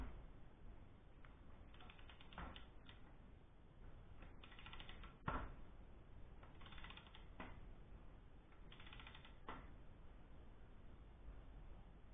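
Torque wrench tightening cylinder head bolts on a Citroën AX engine, faint ratcheting clicks in short irregular bursts with one sharper click near the middle, quiet and close.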